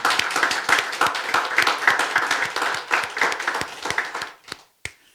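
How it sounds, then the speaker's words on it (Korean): A church congregation at a Sunday worship service claps in thanks to God, dense close-up hand claps in a steady burst for about four seconds that trail off into a few scattered last claps. "하나님께 감사의 박수 올려드립니다"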